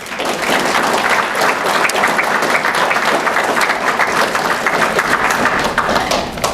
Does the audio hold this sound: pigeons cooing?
no